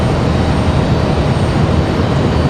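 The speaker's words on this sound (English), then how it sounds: "that is Republic Airways 3632 coming in from Washington, D.C. via Dulles" Republic Airways jet arriving from Washington Dulles at Raleigh-Durham, a steady, loud engine roar throughout with no talk.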